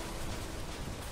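Steady rain from rainy sunflowers in the video game Plants vs. Zombies: Garden Warfare 2 hisses faintly and continuously in a brief stretch, with no voices.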